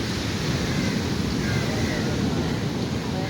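Sea waves at a windy, empty beach in Kerala, a constant low roar of surf mixed with wind buffeting the microphone, loud and unbroken throughout.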